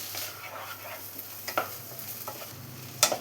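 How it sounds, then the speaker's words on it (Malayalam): Horse gram and egg stir-fry over a high flame, giving a continuous sizzle with repeated scraping and tapping of a spatula in the pan, including a sharp clack near the end. "ഹൈ ഫ്ലെയിമിൽ വെച്ച് നന്നായി തന്നെ ഒന്ന് ഡ്രൈ ആക്കി എടുക്കാം"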